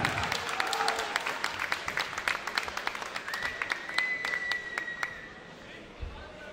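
Crowd at the FAIR FC 13 MMA event applauds fight winner Yunus Gürler, after a first-round rear naked choke submission, with clapping that starts full, thins into scattered individual claps and fades to near quiet, alongside a brief sustained whistle-like tone.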